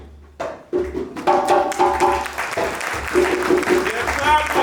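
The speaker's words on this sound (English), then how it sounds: "And they're clapping." An audience claps, the applause swelling after a quiet start into a dense, steady patter, with voices and musical tones mixed in.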